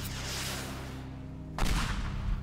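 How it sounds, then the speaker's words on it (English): An RPG rocket launcher fires in the video game Teardown, a steady low rumbling bed giving way to a sudden loud blast at mid-clip that rolls on into heavy booming noise. "Okay, let's try the RPG. Rocket launcher."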